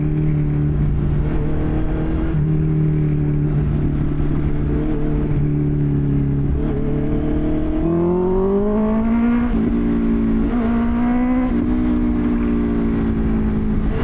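A Honda CB650 motorcycle ridden in third gear, its engine note droning steadily and then rising twice as the throttle opens, loud and close with wind noise, no talk.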